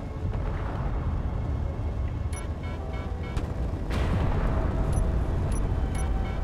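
Clang gun firing in a space-engineering video game with inertial dampeners off, a continuous heavy roar of booming, rumbling blasts with metallic clicks layered on top, loud and sustained.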